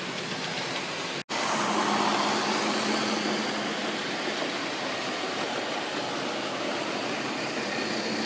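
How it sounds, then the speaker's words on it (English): Model railway Class 37 diesel locomotive running fast on a layout, a steady close rolling rumble with a brief dropout near the start, heard alone without talk. "there goes the Class 37 on the other track, going quite fast"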